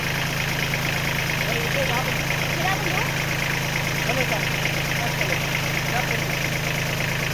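A vehicle engine idles steadily with a constant low hum and drone while a learner drives, heard close with people talking over it throughout.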